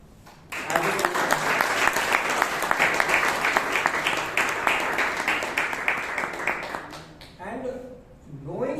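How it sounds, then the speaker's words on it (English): Room of Toastmasters club members in Bangalore clapping for a first-time table topic master, a dense steady burst of applause lasting several seconds before fading, with a voice starting to speak at the end. "So let's give the applause at the outset to the person who's taken up the role for the first time"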